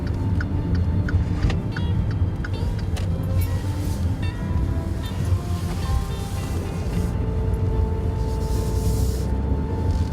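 A 2013 Dodge Dart drives along, its transmission noise blending into a steady cabin drone of engine and road noise, with brief clicks and shifts.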